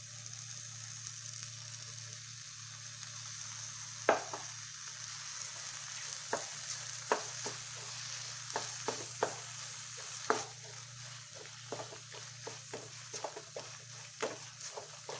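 Crumbled paneer is stirred and mashed in a pan while making a paneer beetroot fudge. A soft steady sizzle runs throughout, broken by irregular spoon taps and scrapes against the pan, and no one speaks.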